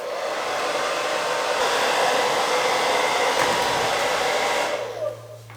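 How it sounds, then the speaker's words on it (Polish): A hair dryer on its second of three power settings blows a loud, steady rushing stream to heat and soften the adhesive on a helmet mount, then cuts off near the end. "Suszareczka 2 na 3 mocy i lecimy."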